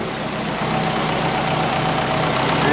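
A smoky car engine, with the smoke coming from the power steering, idles in a steady, even low rumble that runs unbroken and close throughout.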